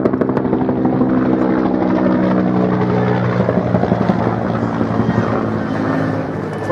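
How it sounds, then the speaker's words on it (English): A loud helicopter drones steadily close overhead, its thudding rotor and engine roar filling the whole clip without pause. "Very noisy that helicopter was."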